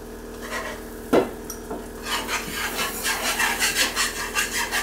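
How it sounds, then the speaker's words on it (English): A whisk scrapes flour into melted butter in a pan, starting with a light knock and then settling into a close, rhythmic rasping stir that grows steadily. "now I'm going to whisk the flour in with it"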